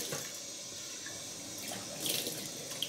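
Cold water runs steadily from a bathroom sink tap while someone washes their face after shaving, a close continuous splashing hiss with brief louder splashes near the end.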